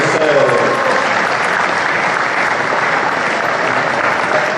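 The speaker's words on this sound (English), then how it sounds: "should I have a round of applause for our 4 experts?" An expo audience at a retro gaming event in Manchester applauds a panel of four experts, dense continuous clapping filling the hall at steady loudness throughout, with a faint voice briefly audible near the start.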